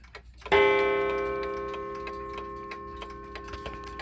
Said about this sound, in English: Here's the gong.